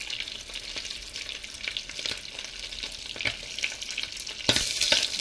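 Fried rice with soy sauce sizzles and scrapes as a spatula stirs it in a hot pan, the crackle running on steadily, close and clear, with sharper scrapes near the end.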